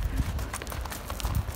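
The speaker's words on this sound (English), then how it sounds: "Horse riding." Hooves of a ridden horse clip-clopping outdoors near Arkhyz, Russia, a quick, steady run of close thuds over rustling wind noise.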